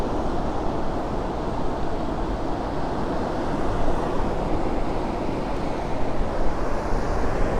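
Rough surf breaks on a beach in North Naples, Florida, producing a continuous rushing wash with wind buffeting the microphone. The roar swells slightly midway and runs steady throughout with nobody speaking.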